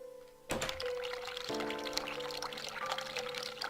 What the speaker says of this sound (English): Sink. Turn cold water on.